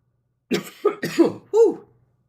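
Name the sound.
cough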